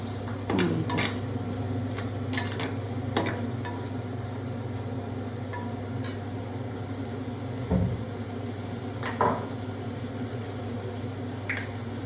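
Onions and tomatoes frying in a pan, a steady close sizzle with scattered clinks and scrapes of a utensil against the pan, no voices.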